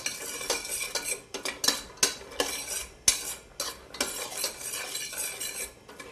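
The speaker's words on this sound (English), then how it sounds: "So I'm just stir frying them here." Walnuts stir-fried in butter in a pan: a utensil scrapes and clinks against the metal in an irregular rhythm, with nuts rattling and a faint sizzle underneath, close up and with no talking.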